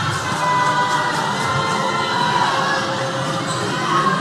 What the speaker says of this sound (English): Here comes the Tongan crowd, just singing home the team.